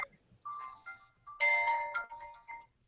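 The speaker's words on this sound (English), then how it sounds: "I'm trying to get my cell phone to stop ringing." A cell phone ringtone plays a short melodic tune of bright tonal notes in a few bursts, fairly clear against a quiet room.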